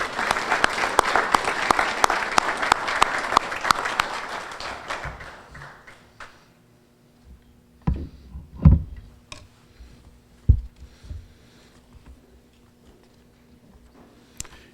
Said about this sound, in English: Let's give Ken another round of applause.